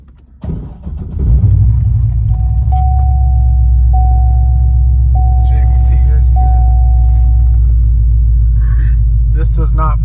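A 2006 Chevrolet Corvette Z51 with a 6-speed manual and 25,000 original miles fires up and settles into a loud, steady, deep rumbling idle from engine and exhaust, with a faint repeating electronic tone and brief talk near the end.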